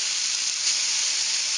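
Cep mushrooms hit hot oil in a pan, giving a bright, even hiss of sizzling that holds steady and close for the whole short stretch.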